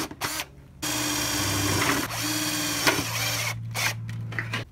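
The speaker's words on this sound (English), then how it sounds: "Then I just drilled a hole at each location that I marked." Power drill boring holes in sheet metal, a steady close motor whine in bursts, starting and stopping with short gaps between holes.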